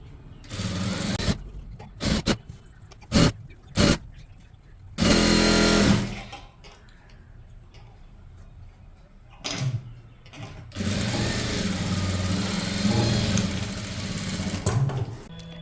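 A sewing machine stitches a chudithar top in bursts, short runs alternating with longer sustained passes, close and fairly loud, with quiet gaps between.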